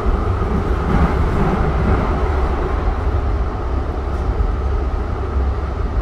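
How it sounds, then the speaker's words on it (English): Old train passing close by on the Blue Line, a dense, loud, continuous roar and rumble of wheels and motors holding steady throughout, no talk. "another old guy is gonna pass us, another old train."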